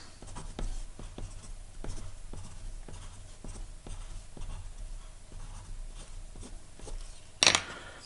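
A pencil sketches a geometry triangle on paper, a close, faint scratching in short repeated strokes with light ticks, over a low hum and without speech, ending in a sharper knock near the end.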